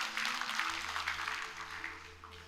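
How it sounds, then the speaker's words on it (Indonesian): A church congregation claps briefly and softly at a Sunday service, a short faint burst of applause that fades out quickly. "Kita berikan tepuk tangan bagi Tuhan kita."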